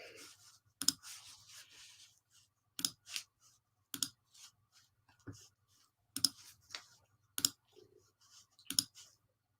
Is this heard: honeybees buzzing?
no